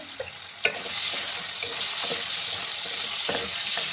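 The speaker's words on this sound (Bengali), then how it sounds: "এবার আমি প্রথমে আলুগুলোকে ভেজে নেব।" Potatoes sizzle steadily in a hot pan, with a bright, continuous frying hiss and a few sharp clicks of stirring near the start.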